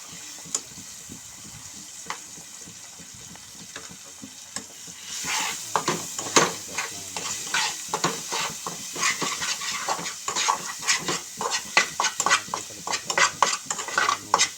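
Egg noodles frying with egg in a pan, first a quiet hiss, then from midway a loud steady sizzle broken by frequent scraping and clinking strokes as the mixture is stirred back and forth.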